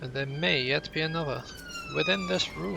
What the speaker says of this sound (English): I apologise for the sirens